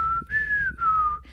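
A person whistles a short tune of three sustained notes, clear and close, with brief gaps between them.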